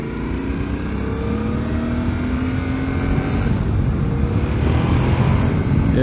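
A Yamaha Tenere 700 motorcycle engine hums and builds steadily under way, a loud close drone with rising pitch and heavy rumble mixed with wind buffeting, no talking.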